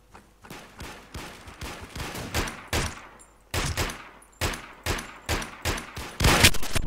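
Gunfire in the online shooter WarMode: repeated loud bursts and single shots at an uneven rhythm over several seconds, some close and sharp, others slightly softer, with no speech.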